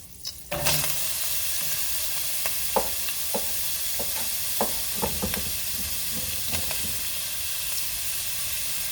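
Onions sizzling in about a tablespoon of oil in a pan, a steady loud frying hiss after they drop in, with scattered crackles and pops throughout.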